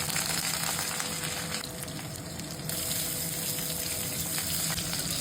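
Chopped raw mango hitting hot mustard oil with popped mustard seeds, giving a steady, close frying sizzle that briefly dips in the middle, no voices over it.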